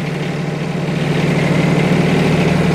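A tractor engine idling after standing unused all winter, a steady low rumbling drone with even vibration, close and continuous throughout with no voices.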